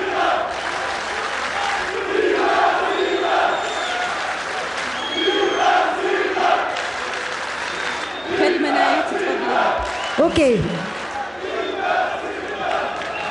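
A studio audience cheers, claps and shouts in loud, surging waves, with bursts rising and falling across the stretch while someone speaks briefly over the noise.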